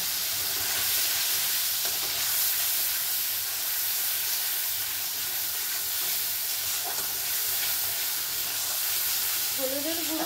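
Chili powder being stirred into chicken keema in a pan, with a steady, close frying hiss and sizzle running the whole time and faint utensil scrapes now and then.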